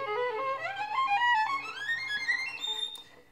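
Violin playing a short legato passage, smooth connected bowed notes that climb gradually in pitch, played alone and close with no talking, fading slightly at the end.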